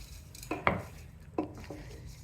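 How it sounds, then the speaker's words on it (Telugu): Lemon rice tempering is stirred into rice in a pot, with a handful of clinks and scrapes of a spoon against metal over a low, quiet background. "ఈ తిరగమాకుని అన్నంలో కలిపేసుకుందాం తిప్పేయండి"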